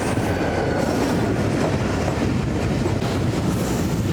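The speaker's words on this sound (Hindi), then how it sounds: "तो एक अदर डाउन में भी ट्रेन आ रही है" A train passing close by on the adjacent track, heard from aboard the Tezgam on the Karachi to Khanpur line: a loud, dense, steady rumble with rhythmic wheel clatter and faint squeal, with no talk.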